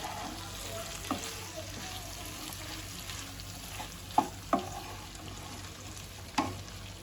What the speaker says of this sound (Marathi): लिंबाचा रस घाबोलीमध्ये छान मिक्स करून घेऊ